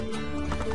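Horse hooves in the Assassin's Creed Brotherhood video game, a short burst of clip-clop and horse sounds over a steady tonal game soundtrack hum, with no speech.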